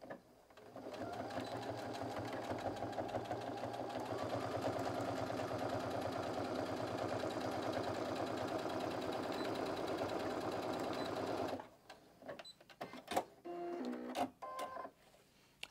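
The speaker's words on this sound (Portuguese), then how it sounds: "essa costura agora a gente vai fazer com a medida de um pé de máquina" Close, continuous whir of a sewing machine stitching the sides of a fabric organizer for around eleven seconds, then it stops and a few light clicks and fabric handling noises follow.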